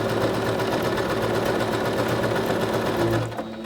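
A Singer SewMate 5400 sewing machine stitching a pant hem runs steadily with a close, rapid mechanical hum and rhythmic needle chatter, then slows and stops near the end.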